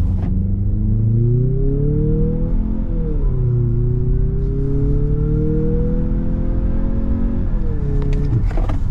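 A 2025 Mazda CX-50 Turbo accelerates hard from 0 to 60 mph after a brake rev, heard from inside as a loud, continuous engine drone. The pitch climbs, dips at each gear shift, then climbs again.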